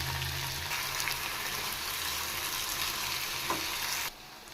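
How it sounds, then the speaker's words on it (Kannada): Tomatoes for garlic tomato chutney sizzle and crackle steadily in a hot pan, a dense continuous frying hiss that drops away abruptly near the end. "ಟೊಮೊಟೊ ಚೆನ್ನಾಗಿ ಫ್ರೈ ಆದರೆ ಟೇಸ್ಟ್ ಸಿಗೋದು ಚಟ್ನಿ"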